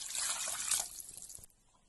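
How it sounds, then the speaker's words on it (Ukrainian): Brief splash of water poured into a pot, a hissy gush that tapers off into faint trickling within a couple of seconds. "Заливаю водою."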